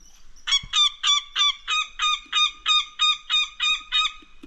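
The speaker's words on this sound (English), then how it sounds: "Northern goshawk, and here's what they sound like," Northern goshawk alarm calls played back from a phone bird app: about a dozen harsh, evenly spaced calls in a steady rhythm, loud and close, with no talking.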